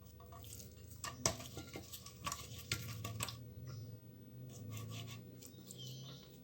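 Dough being mixed and worked by hand in a bowl for msemen-style flatbread made with wheat flour and semolina, giving close, steady scraping and rubbing with a few sharper knocks against the bowl.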